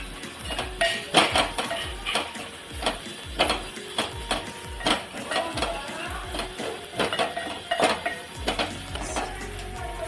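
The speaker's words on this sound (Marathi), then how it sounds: "इथे मी दोन चमचे बेसन घेतलं आहे हे आपल्याला जर असं भाजूनच घ्यायचं आहे" Two spoons of gram flour dry-roasting in a pan for a Maharashtrian spinach and besan dish, with a spoon scraping and clinking against the metal in steady repeated strokes, close and fairly loud throughout.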